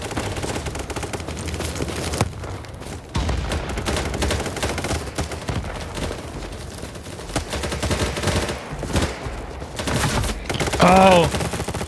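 Gunfire rattles through a round of the video game BattleBit, with dense bursts of automatic fire and scattered shots at close to middling range, briefly dropping out before resuming and ending in a short whining tone.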